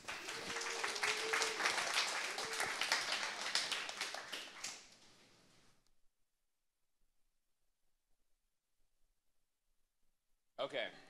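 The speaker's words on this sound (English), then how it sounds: "give him a round of applause" Audience applause for a speaker at a lightning talk event, a burst of clapping lasting about five seconds that tapers off into silence before a voice returns.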